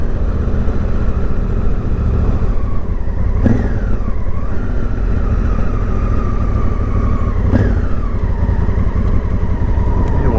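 A motorbike cruises along a narrow country road, its engine droning steadily and loud throughout, with two brief rises in pitch as it revs or shifts; no one speaks.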